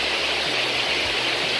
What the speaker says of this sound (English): If you can hear me above the waterfall.